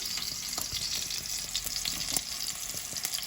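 Meatballs of minced meat bound with egg sizzle and crackle steadily in a hot pan, with occasional sharp pops and spits, close and fairly quiet.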